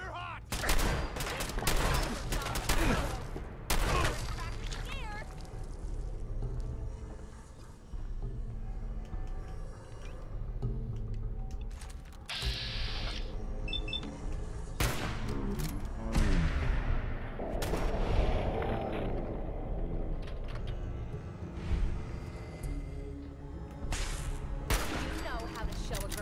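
Gunfire in Fallout 4, loud repeated shots and bursts cracking in quick succession across the whole stretch, some rapid and some spaced, under an indoor firefight with scattered impacts and brief distant booms.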